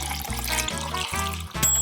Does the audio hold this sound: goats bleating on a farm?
no